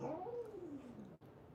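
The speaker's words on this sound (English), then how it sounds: "My cat is dreaming and she's making, do you hear it?" A sleeping cat makes a soft, drawn-out meowing moan while dreaming, one quiet falling call followed by a brief click, heard alone and close.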